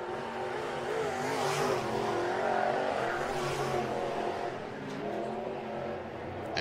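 A dirt late model race car, the number 9K, roars through a qualifying lap at Atomic Speedway, engine droning loud and continuous with rising and falling revs as it sweeps around the track.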